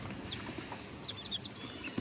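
Crossbred chicks peeping in a brooder, with many thin high chirps scattered throughout over a faint background hum.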